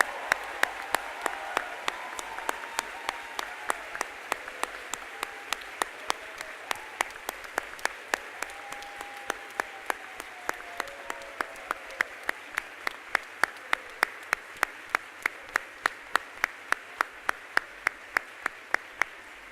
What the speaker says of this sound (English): now let's clap for the class of 2019